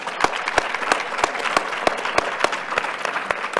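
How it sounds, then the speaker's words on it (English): A crowd applauds steadily at a conference closing session, dense clapping with a few sharper individual claps standing out, fairly close and continuous throughout. "So a round of applause for these amazing organizers."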